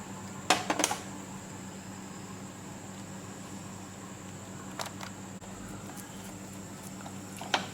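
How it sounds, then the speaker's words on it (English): Spice paste is mixed in a bowl with a utensil, a few sharp clinks and scrapes at the start and later, separated by a quiet steady background hum. "This is just to easily mix these spices."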